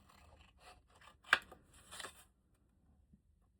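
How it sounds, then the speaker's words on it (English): Leather wallet pieces being trimmed with scissors, close and quiet: a few soft snips and scraping cuts in quick succession, then near silence. "we can go ahead and trim these up a little closer"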